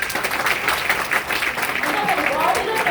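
An audience claps after a demonstration of Forever aloe vera gel: a dense, steady patter of many hands runs throughout, with a presenter's voice talking over it.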